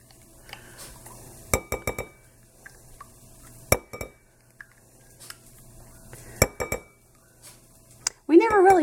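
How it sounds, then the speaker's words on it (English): A small baby spoon clinks against tiny glass baby food jars in a kitchen, giving scattered sharp metallic taps at irregular intervals. The contact is close but quiet, with a brief louder rustle at the end. "Get my handy dandy baby spoon for all these little tiny baby jars."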